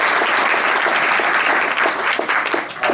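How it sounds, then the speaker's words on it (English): Audience applause at a technology meetup hosted by Microsoft, a dense, steady burst of many hands clapping together, loud and sustained throughout with no talking over it. "Let's just give a round of applause for Microsoft for hosting this."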